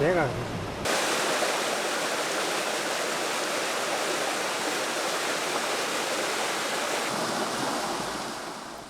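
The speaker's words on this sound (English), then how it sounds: "이 계곡을 접하면서 계곡 물소리 그 청정 소리를 들으면서" Mountain valley stream in Korea near Mount Ungbong, rushing water forming a loud, steady broadband roar that starts abruptly after a brief voice and holds evenly throughout, close and continuous.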